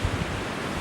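Wind gusts across the beach at Santa Cruz, buffeting the microphone in a broad, rumbling rush that rises in low bursts, with surf-like noise underneath and no voices.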